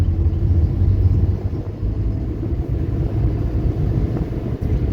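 A car engine rumbles steadily and close while the driver shifts from second to third gear, with a low, even drone and small dips in level, and no talk.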